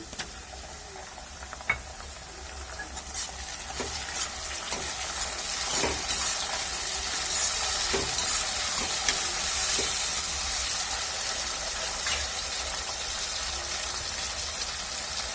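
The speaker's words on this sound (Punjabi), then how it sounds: "ਇਹਨਾਂ ਨੂੰ ਬਰਾਊਨ ਹੋਣ ਤੱਕ ਭੁੰਨਾਂਗੇ" Potatoes and fenugreek leaves with tomato fry in a pan until brown, a continuous close sizzle and crackle with occasional stirring clicks and scrapes throughout.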